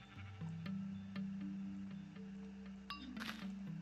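Sheep in Minecraft giving a few wavering bleats, one long and one shorter, fairly clear over a quiet background with a brief crackle near the end.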